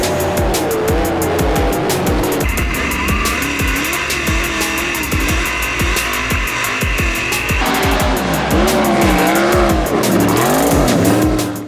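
Non-wing sprint cars race on an Indiana dirt track, their engines roaring loud and close with rising and falling revs as cars pass and power through the turns.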